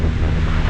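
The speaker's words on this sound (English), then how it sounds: "it's windy" Heavy wind buffets the microphone while cycling, a loud continuous low roar with rough fluttering texture and no voices.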